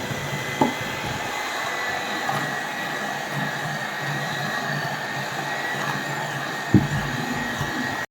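Eggs being beaten for a semolina cake batter make a steady, even whirring drone that holds throughout, broken by two brief knocks near the start and the end.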